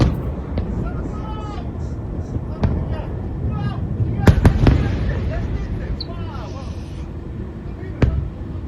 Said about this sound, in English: you see that missile flying super fast, direct hit on the target